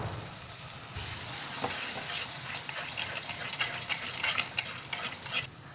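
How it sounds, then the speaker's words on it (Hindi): Water is poured into frying masala for shahi paneer, bringing a gushing splash and bubbling sizzle with stirring clatter against the pan, moderately loud and close. "अब हम इसमें पानी डाल देंगे।"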